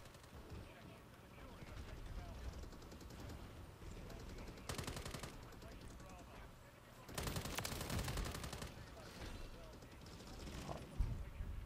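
Bas-B rifle fire in the video game Modern Warfare 3 comes in rapid automatic bursts of gunshots, two longer sustained volleys among the game's background action, with a player talking over it.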